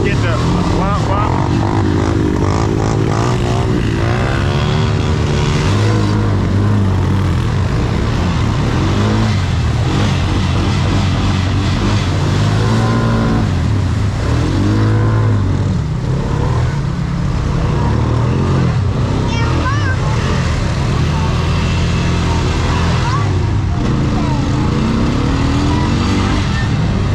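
An off-road vehicle being driven in two-wheel drive on rural land, its engine a loud, steady drone with shifting revs throughout, with people talking over it.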